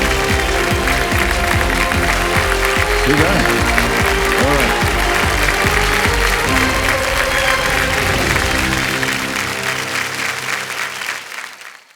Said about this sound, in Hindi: आइए बैठिए, तालियां बजती रहें इनके लिए